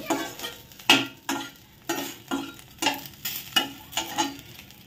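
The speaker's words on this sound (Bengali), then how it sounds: "কড়াইতে অল্প তেল দিয়ে কারি পাতাটা এরকম হালকা করে একটু ভেজে নেব।" Curry leaves fry in a little oil in a kadai as a spoon stirs through them, a gentle sizzle punctuated by rhythmic scraping strokes roughly every half second, close and fairly quiet.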